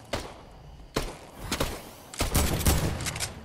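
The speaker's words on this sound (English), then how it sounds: "I'm getting shot at." Gunfire in the battle royale game Fortnite, several irregular shots and thuds, some single and some in short clustered bursts, moderately loud with no talking.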